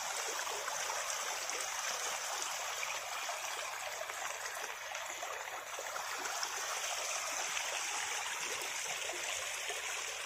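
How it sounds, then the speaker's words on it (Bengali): Floodwater from overnight rain pours in at a gate, making a steady, rushing gush of flowing water that runs on evenly at moderate distance. "আর আমাদের গেটে দেখেন কত পানি বাড়ছে"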